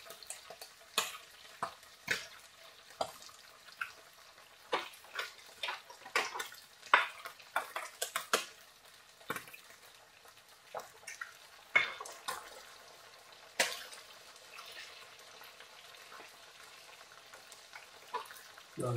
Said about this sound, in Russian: колбаса с одной стороны поджарилась, я ее перевернул